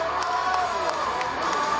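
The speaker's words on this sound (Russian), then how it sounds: "Аплодисменты спортсменам. Поддержим аплодисментами." Crowd at a bodybuilding competition cheering and applauding the athletes, a dense steady wash of clapping and shouts throughout, loud and close with no break.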